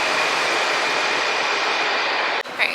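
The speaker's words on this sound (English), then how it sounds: "we just got off the metro" A Washington DC metro train runs with a loud, steady roar of wheels and motor and a high whine, ending with a sudden clunk and brief rattle near the end.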